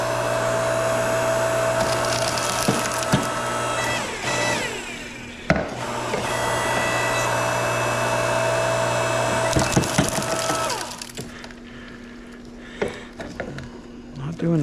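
A homemade machine splitting small copper electric motors, with a steady mechanical drone, grinding, rasping and splintering crunches of metal that break off near the end into quieter clicks and knocks.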